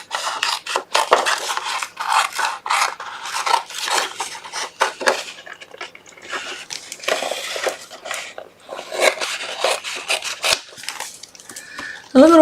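Scissors cut out a coral-colored paper frame for a handmade birthday card, producing close, irregular snipping and rustling bursts with brief pauses between cuts.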